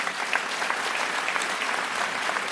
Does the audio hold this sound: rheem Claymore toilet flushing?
no